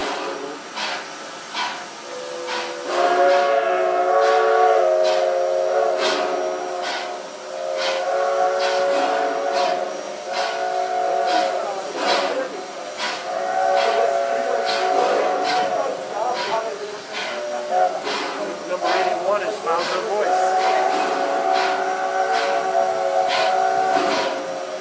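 Nevada Northern steam locomotive No. 81 sounds its whistle in long, loud, chord-like blasts that swell and break repeatedly over hissing steam.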